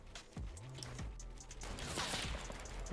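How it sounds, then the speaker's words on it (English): A sniper rifle shot rings out in Fortnite, one of several sharp, fairly quiet bursts over a low, steady game background, the strongest landing near the end. "I got sniped from behind."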